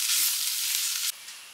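Ground pepper powder roasts in a hot pan for a Traditional pepper chicken roast, giving a loud, dense, steady sizzle that cuts off abruptly after about a second, leaving a faint hiss.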